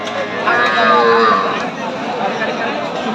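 Cattle low briefly at a busy cow market in Raniganj where young heifer calves are sold; the moo sits among crowd noise and nearby talking.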